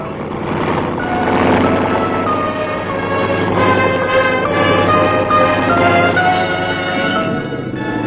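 A 1960s U.S. Army tank crossing a free span gap at Aberdeen testing grounds, its heavy engine droning loud and steady with harmonic mechanical whine and track clatter throughout.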